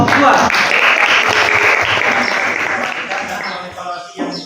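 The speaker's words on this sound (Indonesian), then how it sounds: "beri aplaus untuk kelompok 2" A classroom of students applauds a presenting group with loud, dense clapping that carries for about four seconds before thinning out, with a few voices mixed in at the end.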